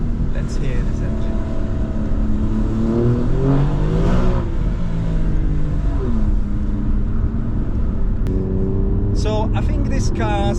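An Alfa Romeo Giulia Quadrifoglio engine drones loudly and steadily, pitch climbing and falling as it revs under way, with a brief voice near the end.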